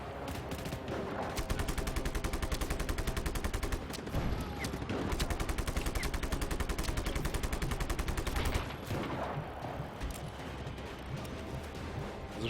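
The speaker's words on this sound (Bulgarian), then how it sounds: "Не знам защо стрелям с узи" Uzi submachine gun fire in Just Cause 3, dense rapid automatic bursts lasting several seconds each with brief pauses between, loud and continuous, no talk.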